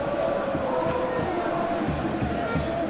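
Dense stadium crowd roar at a night World Cup final between Ghana and Argentina in eFootball PES 2021, a steady, broad wash of noise with a commentator's voice on top.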